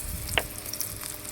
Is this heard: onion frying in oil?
yes